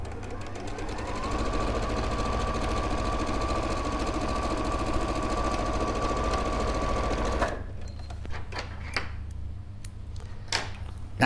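A sewing machine stitches the bottom seam of a tote bag, a steady fast whirring run of about seven seconds that stops abruptly, followed by faint handling clicks and quiet shuffling.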